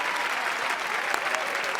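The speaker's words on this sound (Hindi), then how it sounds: "तालियां तालियां।" An audience gives a short, dense burst of applause, steady and fairly loud throughout.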